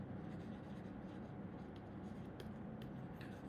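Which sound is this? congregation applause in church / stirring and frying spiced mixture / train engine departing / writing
writing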